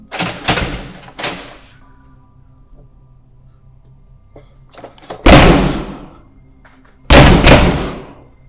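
A door in a house slamming and rattling: two sharp knocks, a quiet stretch, then two heavy, loud bangs spaced about two seconds apart.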